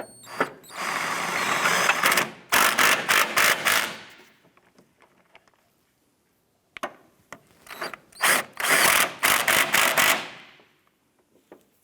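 A ratchet tightens engine mount bolts on a 2004-2008 Acura TL, in two bursts of rapid clicking separated by a near-silent pause, close and fairly loud.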